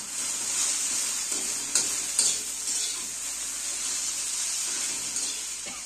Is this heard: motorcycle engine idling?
no